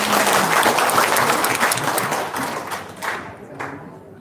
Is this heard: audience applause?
yes